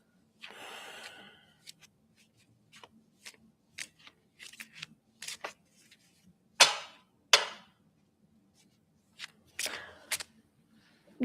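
Tarot cards are shuffled and handled during a reading, heard as scattered soft, crisp riffles and snaps that come in short bursts with quiet gaps between them, close and fairly faint.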